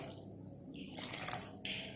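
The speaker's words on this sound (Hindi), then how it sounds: "तो ज़्यादा सा पानी डालेंगे बाउल में" Water is poured into a bowl to wash bitter gourds, a close, hissing rush that starts after a quiet moment, briefly cuts off, then resumes.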